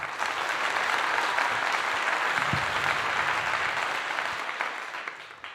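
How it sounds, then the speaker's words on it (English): A room full of people clapping in a steady, dense wash of applause that holds evenly and then thins out toward the end. "Round of applause for that."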